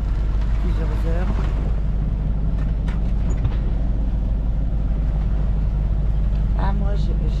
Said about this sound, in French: Donc on avance au moteur depuis un bon moment déjà, plusieurs heures.